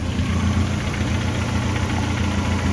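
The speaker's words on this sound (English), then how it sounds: "Running on 4 cylinders, finally." A Ford Escort Mk1 engine idles steadily on four cylinders after injector repairs, a close, even mechanical hum with slight knocking vibration and no voices.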